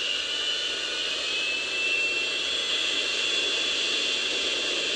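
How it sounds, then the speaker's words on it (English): A jet airplane's engines whine and roar steadily as the plane pulls in, a loud continuous hiss with a high sustained tone and no talking. "I know that airplane is coming in"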